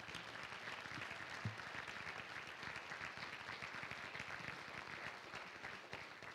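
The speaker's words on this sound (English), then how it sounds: "I want all of you guys to stand up and receive another round of applause as well." Audience applause at a conference dinner keynote, steady continuous clapping from a crowd, fairly soft and even throughout with no pauses.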